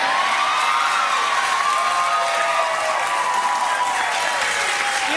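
A late-night talk show studio audience bursts into loud, sustained applause mixed with cheering and whoops, the clapping dense and continuous from start to finish with occasional shouted voices rising above it.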